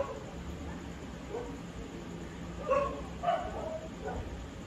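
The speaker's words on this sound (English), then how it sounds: "we got a lot of barking dogs here in this neighborhood" Dogs bark around a neighborhood, a few distant yips and woofs popping up at intervals over a steady low background hum, with no talking.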